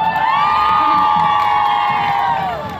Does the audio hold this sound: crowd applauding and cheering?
yes